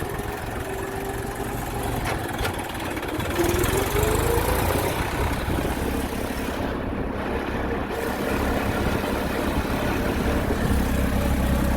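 A low, steady engine rumble runs continuously, like a tractor idling nearby, with a brief faint whine partway through.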